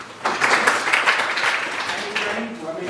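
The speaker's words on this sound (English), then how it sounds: "Clap for him." Pupils in a classroom break into a short burst of applause for a classmate who answered a question, a scattered clapping of many hands that lasts a few seconds and trails off, with faint voices under it.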